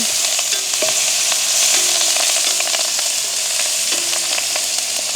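Onion, green chilli and curry leaves fry in a hot pan with a steady, loud sizzle, while a utensil scrapes and stirs now and then, with no voices.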